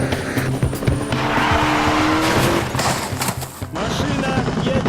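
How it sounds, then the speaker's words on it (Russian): A car races along in an animated Kazakh cartoon chase, with loud engine and tire-squeal effects running throughout over a busy music score, ending with a brief drop before the noise picks up again. "Машина едет в сторону города."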